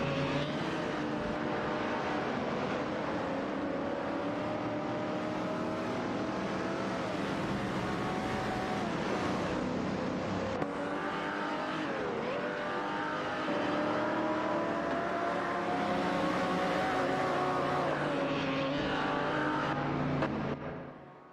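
Race cars lapping a track in a racing video game, a continuous layered engine drone with shifting gear-change pitch sweeps, steady and loud throughout.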